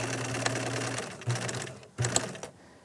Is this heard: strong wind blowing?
no